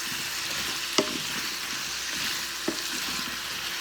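Drained carrots and potatoes are folded into a pot of chicken stew with garlic, giving a steady loud sizzle with two sharp spoon knocks against the pot and no voices.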